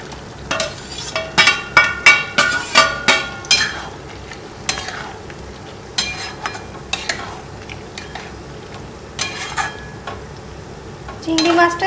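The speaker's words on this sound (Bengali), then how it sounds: "এবার আমি চিংড়ি মাছটা এর মধ্যে দিয়ে নেব।" Prawns tipped into a pot of boiled potatoes, followed by a run of close metal clinks and scraping stirs against the pot, with a gentle cooking bubble underneath and quieter gaps between bursts.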